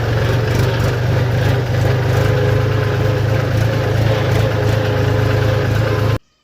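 Loud, steady tractor engine rumble on a farm field with a low drone and rhythmic chugging, close by, cutting off abruptly at the end.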